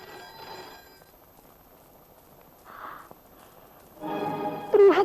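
A telephone bell rings in a household scene from a Hindi drama, with one short burst at the start and a louder, closer ring near the end, separated by quiet.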